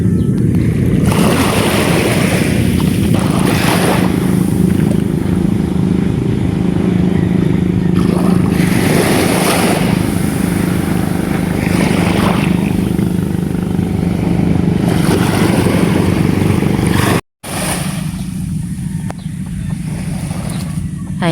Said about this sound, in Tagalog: Ayan po, may paparating na bangka